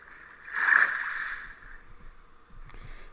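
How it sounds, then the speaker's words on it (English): Swimming through water in Minecraft, with a soft swishing, gurgling wash that swells briefly and then settles into a steady low splashing, with a faint second surge near the end. "I'm just going to swim across this here"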